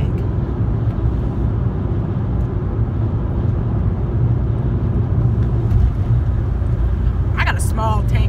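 A Toyota Yaris hatchback engine rumbles steadily while driving, a loud continuous low drone filling the cabin, with a person talking over it near the end.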